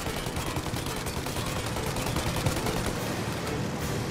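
Cannon fire rattles out in a dense, continuous barrage during a Mafia: Definitive Edition firefight, loud and close with no pauses across the stretch.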